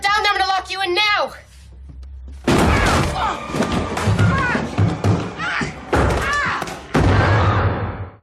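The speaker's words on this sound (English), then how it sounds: "That was the sound of Lorraine Warren falling down the basement stairs." Heavy thumps and crashing thuds in a rapid series sound as a body tumbles down basement stairs, loud and close, and a voice speaks before and amid the impacts.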